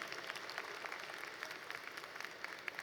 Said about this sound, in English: Please give our Board of Regents a round of applause.